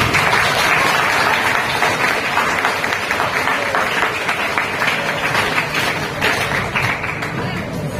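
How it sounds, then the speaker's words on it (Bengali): Applause from a school audience at a zero waste event at Jadavpur High School, a dense sustained clapping of many hands lasting the whole stretch, loud and close, slowly tapering near the end. "সকলের জন্য সবাই মিলে একটা বড় করে হাত তালি দিচ্ছি।"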